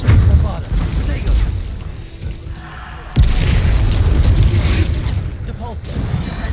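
A Bombarda explosion spell going off in Hogwarts Legacy during a duel, with loud booming blasts and a sharp burst around midway, heavy low rumble under game effects and a voice at times.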